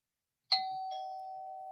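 A two-tone doorbell chime rings once, a bright strike followed by a lower sustained tone that lingers, clear and close in a quiet room.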